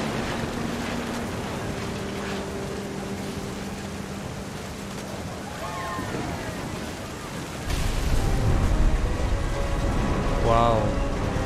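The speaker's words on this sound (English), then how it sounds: "The thunder sounded much too close and full of angry power." Steady rain hisses throughout a stormy scene in the video game What Remains of Edith Finch, joined partway through by a louder, deeper thunderous rumble, with faint tonal sounds drifting in the background.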